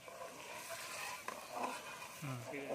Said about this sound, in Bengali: তো দেখেন মোটামুটি কষানো হয়ে আসছে, বাবুর্চি নাড়াচাড়ার উপরে আছে।